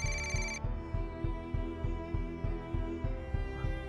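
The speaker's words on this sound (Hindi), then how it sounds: "ओ, तो एहसान की कॉल है। कहाँ है फोन" A telephone rings with an incoming call, a repeating electronic ring pattern in steady pulses, fairly quiet, with no talking.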